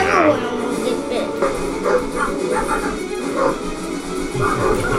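A dog barks and yips in short bursts over a busy, noisy background with people talking.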